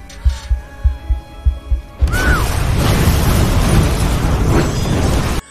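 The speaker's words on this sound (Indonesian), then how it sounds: "gas meledak dan membakar Bernice yang terjebak" A sudden loud blast erupts into sustained roaring, crackling noise, after a few soft rhythmic thumps at the start.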